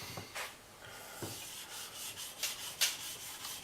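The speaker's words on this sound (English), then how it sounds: "a real fine sandpaper with a block is just as good" Fine sandpaper on a block rubbing along a sword blade, a series of close, soft scraping strokes in an uneven rhythm, with no talk.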